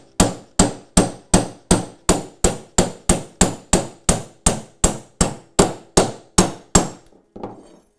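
Wooden mallet or hammer drives a wooden dowel through a sized hole in a plate, about eighteen sharp, evenly spaced blows close up, ending with a lighter knock and no talk.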